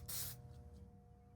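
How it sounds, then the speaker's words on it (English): A short, sharp burst of glue accelerator spray hisses close by on wood for a fraction of a second, then a quiet hum remains. "we'll spray accelerator on this end"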